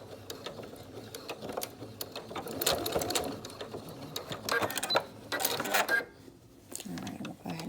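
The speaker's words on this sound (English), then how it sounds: "we're just going to go ahead and sew along that free edge again, just securing in our elastics" A Singer sewing machine stitches along the free edge of a 3-D face mask, securing the elastics. The close mechanical whir comes in several runs with brief stops, and a voice talks over it at times.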